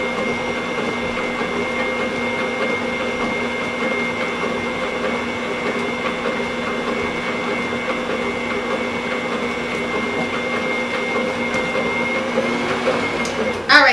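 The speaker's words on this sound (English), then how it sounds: "let's let it mix a little bit" An electric stand mixer with a paddle beats butter pecan cake batter, giving a steady, even mechanical whir that runs unbroken for the whole stretch and ends in a brief clatter, with no talk.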